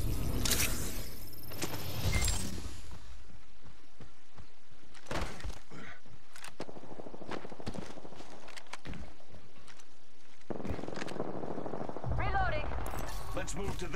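Apex Legends gunfire crackles in short bursts and single shots amid in-game sounds, some sharp and close, others softer, with brief game voice callouts in between.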